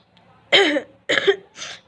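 Three short, harsh coughs in quick succession, close and loud, separated by brief quiet gaps.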